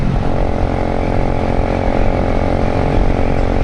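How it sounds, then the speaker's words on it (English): A 125cc motorbike riding along a road, its engine giving a loud, steady drone with constant wind rush, heard close from the rider's position without a break, and no one speaking. "this bike is a 125 15 brake, and it'll do 55, 60 miles an hour"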